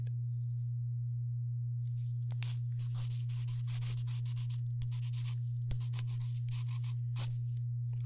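A steady low test tone sounds continuously throughout, joined by soft tapping, rubbing and scratching noises in close ASMR style, with no talking.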